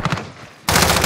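Video game gunfire in two loud, close bursts: a quick stutter of shots, a brief near-silent pause, then a sharp, sustained blast that fills the end. No one speaks.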